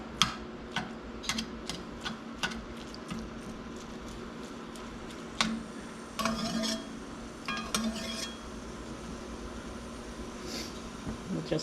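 Two pounds of pork brown in a pot, a soft steady sizzle with scattered ticks and occasional scraping stirs, quiet and close.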